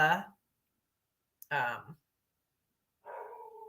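A dog gives a few separate barks with long quiet gaps between them, the sounds somewhat muffled and mid-distance.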